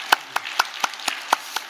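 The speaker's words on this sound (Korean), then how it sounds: "우리 박수로 감사하며 영광 돌립시다" Rhythmic congregational clapping at a Korean church's special Lent dawn prayer service, sharp evenly spaced claps roughly every quarter second, close and fairly loud with little else around them.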